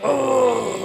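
A voice lets out a low, drawn-out monstrous groan imitating King Diamond about to devour someone; brief and loud.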